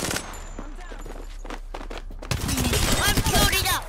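Rapid gunfire in the video game Apex Legends, a first stretch of scattered single shots and bursts, then a dense loud volley of automatic fire in the back half, with voices faintly mixed in.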